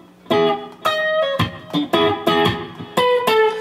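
An electric guitar plays a slap-pop rhythm, with sharp percussive string slaps alternating with ringing chord and single-note stabs in a syncopated, choppy pattern.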